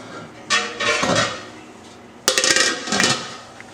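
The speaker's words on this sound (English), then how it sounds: "We'll put the lid on it." A metal lid set onto a pot of homemade gumbo with a roux base, giving two separate clanking bursts of metal on metal, close and fairly loud, with no talking.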